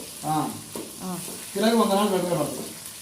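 Dried red chillies sizzle and fry in a pan of oil for a gongura pickle, a steady crackle running beneath a person talking throughout.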